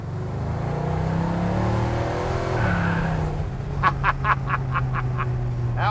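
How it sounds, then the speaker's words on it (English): A 1948 Chevrolet pickup truck's exhaust at about half throttle, a steady low rumble running throughout, with a string of sharp chirping frog-like sounds breaking in over it during the final seconds. "let's listen to that exhaust"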